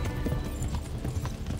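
Hooves of Yenda, a horse in the medieval video game Kingdom Come Deliverance, clip-clop in a steady rhythm at close range, with no voices over them.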